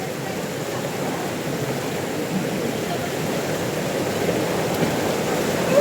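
Rushing water at Kalu waterfall in a forested valley roars as a dense, unbroken wash of noise, close and loud throughout with no voices.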